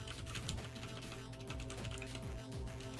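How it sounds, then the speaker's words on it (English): Fast typing on a computer keyboard while playing the hacking game Hacknet: dense, continuous key clicks close to the mic, with game music humming underneath and no voices. "My typing."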